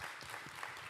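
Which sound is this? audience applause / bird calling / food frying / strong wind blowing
audience applause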